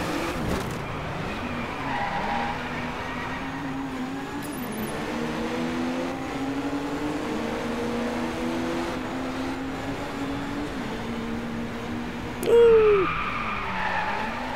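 A race car drifting in a video game, its engine droning steadily while the tires skid through long sustained slides, with one sharp squeal-like burst near the end.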